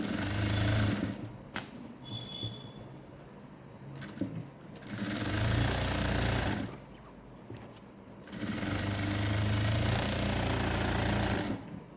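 A sewing machine hums in three long runs broken by short pauses as it stitches the leg of patiala pants, the motor close and steady.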